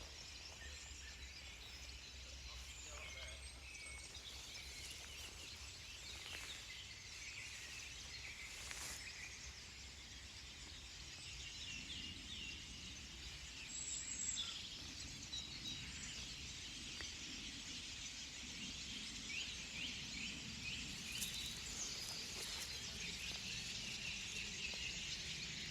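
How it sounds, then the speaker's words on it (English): Song thrushes, goldcrests and goldfinches sing from a tree packed with birds, a faint, busy overlapping chatter of high calls and trills heard from a little distance over soft outdoor background noise. "it's song thrushes and gold crests and goldfinches"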